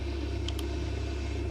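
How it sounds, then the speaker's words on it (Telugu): A fuel truck's engine in the AR Flight Simulator game runs as a faint, steady low rumble, with two tiny high ticks near the start and no voices. "ఇది ఫ్యూయల్ ట్రక్ గైస్"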